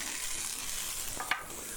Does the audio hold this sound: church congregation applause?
no